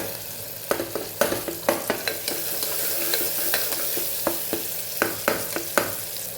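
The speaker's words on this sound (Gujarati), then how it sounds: "આપણે જે લસણવાળી ચટણી તૈયાર કરેલી એ ઉમેરી દઈશું। એને સાતળી લેશું આપણે સરસ।" Garlic chutney sautéing in a pan for a Kathiyawadi cabbage potato curry, with a steady sizzle and repeated sharp scrapes and taps of a spoon stirring against the pan, close and loud with no voices.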